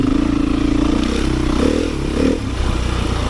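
A Beta 500 dirt bike with a 14-tooth sprocket pulls in second gear on a wooded trail, its engine thumping loud and close with a short rev rise and slight clatter.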